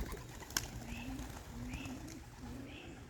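Young pigeons coo repeatedly at an outdoor loft on a drizzly day, soft rolling calls recurring about every second, with a brief sharp knock near the start and low background rumble.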